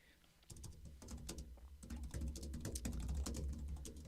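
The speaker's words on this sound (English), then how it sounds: "Sorry if I go quiet when I'm typing." Fingers typing on a computer keyboard in quick, uneven bursts of clicks, close and fairly quiet, growing busier and denser toward the end.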